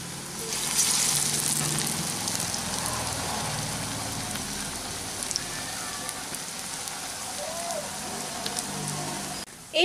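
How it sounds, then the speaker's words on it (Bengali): Flattened bottle gourd leaf fritters frying in oil over lowered heat, a steady, rain-like hiss of bubbling oil held close and even throughout, with a couple of light clinks. "এইভাবে একটু চ্যাপটা চ্যাপটা করে আমি বড়াগুলোকে ভেজে নিচ্ছি"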